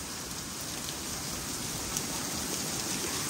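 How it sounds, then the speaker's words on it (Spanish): Heavy rain pours down steadily in a downpour with hail, a thick, unbroken roar of drops hitting surfaces at even loudness throughout. "vean cómo está lloviendo."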